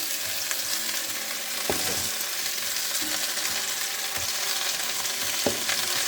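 Cabbage goes into a pan of sausages from Mayenne, bringing a strong, continuous sizzle with a few soft stirring knocks. The sound is close and steady, and no one talks over it.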